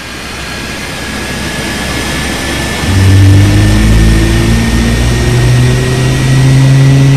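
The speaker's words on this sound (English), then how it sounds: "Have you ever thought about how to start a jet engine of an Airbus A320 airliner?" An Airbus A320 airliner jet engine spools up, a steady broadband roar joined near the three-second mark by a louder rising low hum and climbing whine that holds strong to the end, with no voices.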